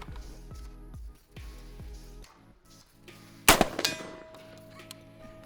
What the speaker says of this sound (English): we're gonna try a flight control at 50 yards and see if we even hear a pellet hit